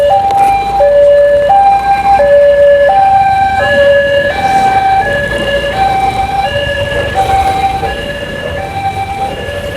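An ambulance siren wails loudly and close by in a repeating two-tone hi-lo pattern over road and motorcycle traffic noise, with no talking.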